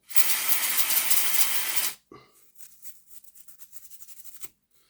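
Spray blasting out a model locomotive part from a Lima Class 40, a loud steady hiss for about two seconds, then a run of short faint spurts and rattles ending in a sharper burst.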